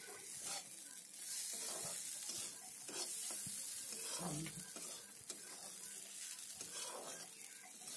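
Rice and spices frying and stirring in a pan for muri ghonto, a steady sizzle with repeated scraping and stirring strokes, close and continuous with no talking.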